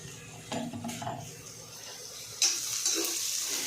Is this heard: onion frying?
yes